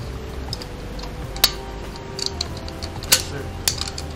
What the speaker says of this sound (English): when you cut it, you want to cut it on the inside so you don't have a sharp edge sticking out